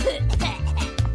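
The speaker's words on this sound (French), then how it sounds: "Elle tousse" A girl fakes a sick cough, a few short forced coughs in quick succession, close and fairly loud.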